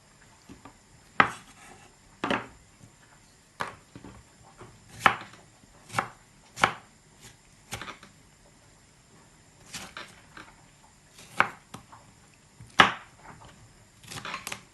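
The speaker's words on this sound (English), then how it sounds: "See the onions, we are cutting them to smaller, chop them up so that it can fit into the blender." Knife chopping onions on a cutting board, sharp irregular thuds spaced a second or so apart, close by, with quiet pauses between cuts.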